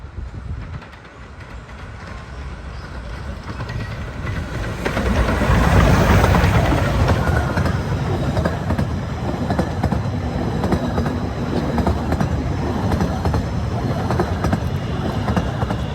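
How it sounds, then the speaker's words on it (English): The Romney locomotive passes on the Ravenglass & Eskdale Railway with a rumbling, rhythmic clickety-clack of wheels on track. It grows louder and closer midway and then carries on steadily outdoors. "This is the Romney Loco coming back down."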